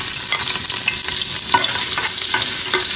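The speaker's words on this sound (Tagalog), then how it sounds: "Ngayon igigisa ko na tong luya." Ginger sizzles steadily in hot oil in a pressure cooker as it is sautéed for beef offal pinapaitan, with close, loud frying crackle and occasional stirring scrapes throughout.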